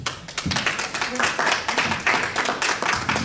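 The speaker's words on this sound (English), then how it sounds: "Please, a round of applause for him." An audience at an integration evening applauds, many hands clapping in a fairly loud, rhythmic patter that holds steady throughout, close and clear with no voices on top.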